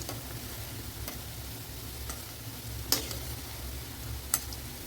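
Pakoda fritters of gram-flour batter fry in hot oil in tea-shop style, giving a steady close sizzle with a few sharp clicks as the pieces are turned over, no voices.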